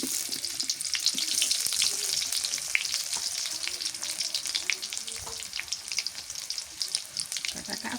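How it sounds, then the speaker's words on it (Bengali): Chopped onions sizzle and crackle steadily in hot oil in a pan, a continuous close frying hiss with small pops throughout, no talking. "পেঁয়াজ কুচি দিয়ে দিলাম"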